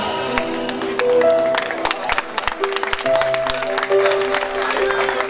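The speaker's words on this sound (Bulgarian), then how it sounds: "Моля всички да станем на крака и с аплодисменти да посрещнем младата двойка." Wedding guests clap for the young couple, bursts of scattered, uneven applause from a room of people, set against music or a sustained tone in the background.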